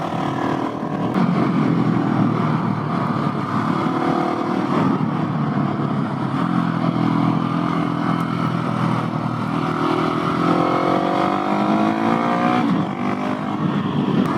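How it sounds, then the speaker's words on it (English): A Yamaha FZ-09 naked motorcycle pulls hard out of corners in low gears, its engine roaring loud and close with sustained rising revs and steady wind rush throughout. "This is where that 50 foot-pounds is nice because the FZ09 like pulls super hard out of turns, especially in those lower gears."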